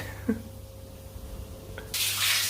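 A hotel shower on Koh Tao starts running after a knob turns, a sudden loud steady rush of water following a quiet room with faint clicks.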